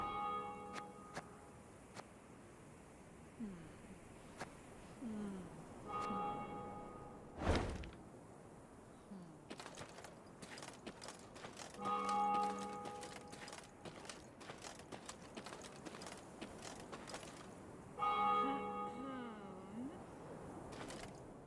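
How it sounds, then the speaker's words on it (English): Temple bells of Mother Melitele in the Thronebreaker game ring out in separate struck clusters several seconds apart, moderately faint and distant, with sharp clicks and a few mechanical ticks between the peals. "they heard the bells of a temple to Mother Melitele, situated at some distance"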